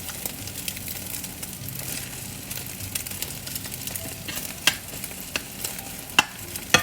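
Eggs sizzling and frying in a pan for spicy tuna fried rice, a steady crackling hiss with occasional sharp scrapes and clicks of stirring, close and alone.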